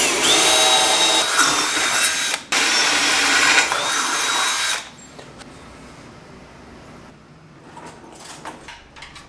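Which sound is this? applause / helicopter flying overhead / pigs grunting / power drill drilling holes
power drill drilling holes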